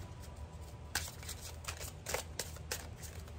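Tarot cards being shuffled, soft papery riffling bursts recurring every half second or so at low volume, with no voices.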